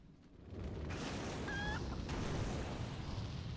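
A chicken in World of Warcraft gives a short clucking call over a steady wash of loud game background noise, with no talking.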